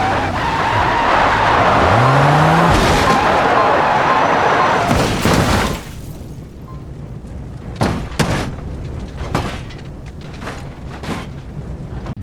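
An Audi RS7 in the BeamNG Drive driving game roars loudly as it accelerates, with a rising engine sweep and heavy rushing wind noise, then cuts to quieter sharp clicks and bangs.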